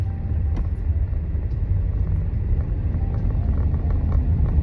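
Steady low rumble of road noise inside a car being driven alone on a rainy day, a constant dense drone filling the cabin with faint ticks over it and no voices.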